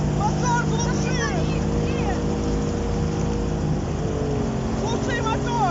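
A motorboat carrying people off Kamchatka, its hull holed, runs with a steady, close engine drone throughout while people shout urgently over it.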